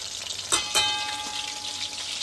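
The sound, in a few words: fish frying in oil in a pan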